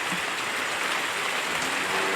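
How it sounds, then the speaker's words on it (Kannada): Rain falls steadily around a farm where cow dung is being cleared in Tulunad, a dense, even hiss with no voices over it. "ನೋಡಿ ಈಗ ಮಳೆ ಬರ್ತಾ ಉಂಟು."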